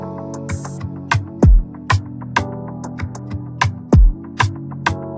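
Drum beat of kicks, snares and hi-hat ticks with a plugin-made sound underneath whose gliding pitch swoops down in deep slides between hits, punchy and close with no voices.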